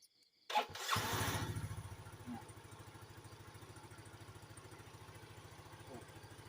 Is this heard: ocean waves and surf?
no